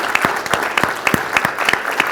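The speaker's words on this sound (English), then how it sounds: "let's give a round of applause" Brief, steady audience applause at a university engineering speaker series event, dense clapping with a few louder nearby claps punctuating it.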